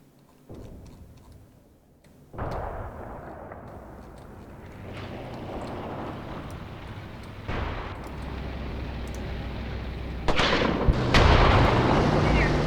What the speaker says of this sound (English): I hear some shooting going on